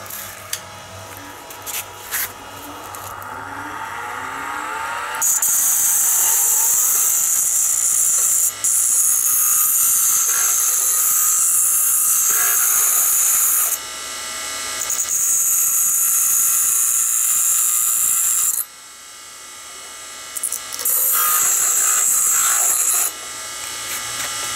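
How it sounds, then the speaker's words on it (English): A power grinder grinding down screws one at a time, a loud harsh high whine in long sustained bursts separated by brief pauses and spin-downs, close and without speech. "I have to back out one screw at a time and then grind one screw at a time"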